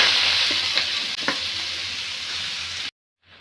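Loud, steady sizzling of kolai greens frying in hot oil, with a few soft stirring clinks, then it abruptly cuts to near silence.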